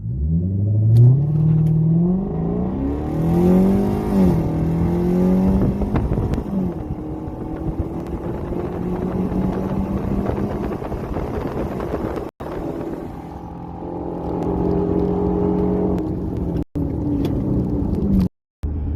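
A Ford Mustang 5.0 on Pirelli P Zero 275/45R18 tyres launches with traction control on. The engine climbs loud and close through several gear shifts while wind buffets the microphone, and the sound drops out briefly near the end.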